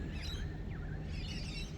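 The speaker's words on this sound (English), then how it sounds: "It's just the birds twittering." Faint, scattered bird chirps over a low, steady background rumble on a morning by the Hawkesbury River, quiet and distant, with no talking.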